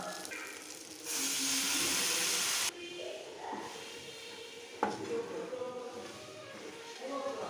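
Spice paste of salt, turmeric and cumin powder hisses and steams loudly in a pan for a couple of seconds after a splash of water, then settles into a softer sizzle with scraping and clinks of a spatula.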